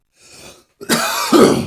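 A man gives a loud, close cough and throat-clear: a faint breathy sound first, then a sharp harsh burst with a second rough rasp right after.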